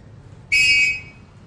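A single sharp, shrill whistle blast lasting about half a second, loud and close, with quiet background before and after.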